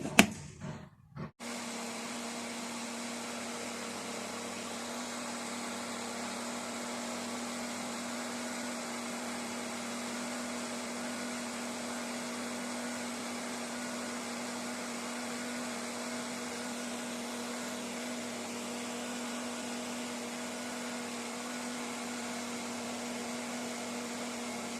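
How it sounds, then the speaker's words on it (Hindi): An electric blender whirs continuously while blending a strawberry milkshake made with cold milk, a steady loud motor drone that starts abruptly after a brief moment and runs unbroken, with no talk. "अब इसको मैं ब्लेंड कर लेती हूँ।"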